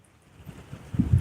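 Strong wind gusts buffet the microphone on a muddy lake during a Sunday-night catfish and crappie outing, a low rumbling roar that builds and gets louder toward the end.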